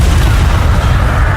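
A loud, sustained booming rush of flame from the Incendio fire spell in Hogwarts Legacy fills the short stretch, heavy and close with no talk over it.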